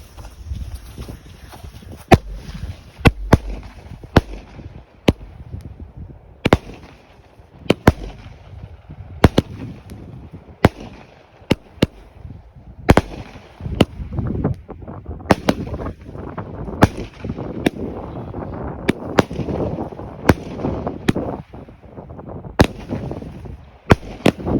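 A 16-shot Nunchucks fireworks cake fires outdoors at night, a steady series of sharp bangs and crackling bursts spaced a second or two apart over about twenty-five seconds, with a faint voice underneath.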